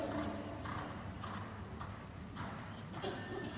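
Horse hooves clip-clop steadily on the ground during a show jumping warm-up, a continuous rhythmic patter close by with no voices over it.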